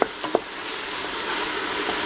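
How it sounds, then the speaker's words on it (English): Vegetables for lentil soup fry gently in oil, giving a steady close sizzle and hiss, with a couple of quick stirring knocks at the start. "you're gently frying, but that you are frying"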